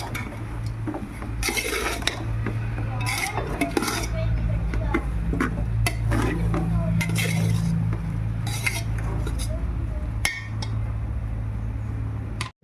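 Spinach fritter batter stirred with roasted gram powder in a metal bowl, repeated scraping, clinking and squelching strokes close by over a constant low hum, with no talk.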